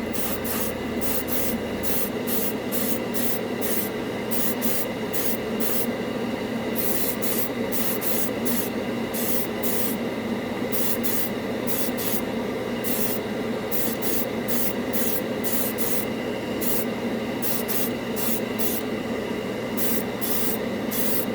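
An airbrush spraying Tamiya flat red paint, a steady close hiss broken by a fast, regular series of sharper bursts as the trigger pulses on and off.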